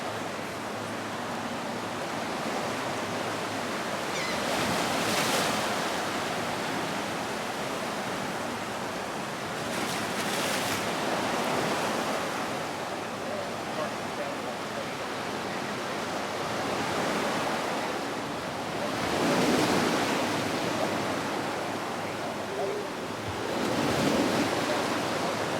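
Waves roll onto the natural sand beach at Key West, Florida, a steady wash of surf with several louder breakers swelling and fading, mixed with wind buffeting the microphone and no talking.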